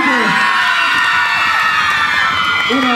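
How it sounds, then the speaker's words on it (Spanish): A concert crowd of girls and young women cheers and screams loudly and continuously at a large Christian music event, shrill whoops rising over a dense roar that fills the whole stretch. "Mira, chicas, griten!"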